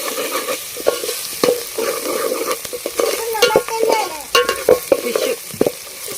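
Fish curry masala mixed with a teaspoon of fenugreek powder is stirred in a pan, giving close, loud scraping and clattering spoon strokes in an uneven rhythm over a steady sizzle.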